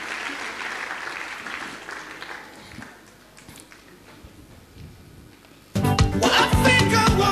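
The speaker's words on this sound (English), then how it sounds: "A round of applause for them" Audience at a Tony Elumelu Foundation forum applauding panelists, clapping that fades, then a loud, close burst of dense applause near the end, with some voices in the room.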